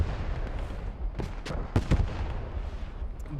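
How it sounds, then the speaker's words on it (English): Distant artillery strikes in the video game Post Scriptum: a few heavy low booms rolling in over a steady background rumble, the loudest pair landing close together near the middle. "Big artillery strike in the distance."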